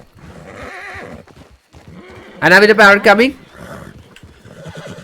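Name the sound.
horse neighing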